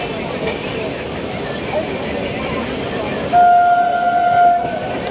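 The Darjeeling Mail rolls through Dum Dum Junction with a steady rumble of wheels and coaches, and partway through a long, loud, sustained horn sounds above the noise.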